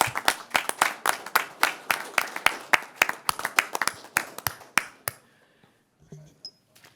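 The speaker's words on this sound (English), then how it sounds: "how about a big round of applause?" A round of applause at a fire district meeting: a small group claps in quick, crisp, close claps for about five seconds, then it falls quiet apart from a faint clink.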